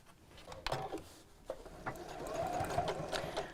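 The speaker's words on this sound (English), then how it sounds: "I'm just going to sew across the ends" A domestic sewing machine stitches across the ends of a cross-body bag close to the edge, a steady whirring run with a few short mechanical clicks, fairly quiet and close up.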